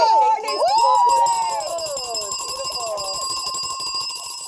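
At a travel and wine charity auction, a bright ringing bell closes the bidding board, its tones wavering and sustaining for several seconds while a crowd cheers and shouts.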